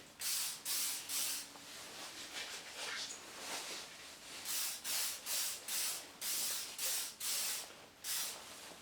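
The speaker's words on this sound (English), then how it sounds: "Before using the Hedge trimmer, I always give it a spray with some WD-40." A WD-40 aerosol can sprays onto a Milwaukee M18 long-reach hedge trimmer in a series of short, sharp hissing bursts, close up, with brief pauses and some faint handling noise between them.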